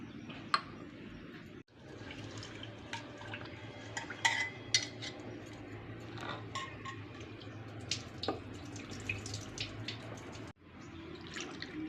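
Roasted foxtail millet and moong dal being washed in water in a home kitchen for sweet pongal, with steady sloshing, stirring and clinking of grains and a vessel, small drips, and no talking.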